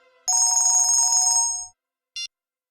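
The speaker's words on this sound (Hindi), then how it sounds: "मेरा फोन है।" A mobile phone ringtone plays a bright, electronic melody loudly for over a second, then cuts off, followed by a short beep after a pause.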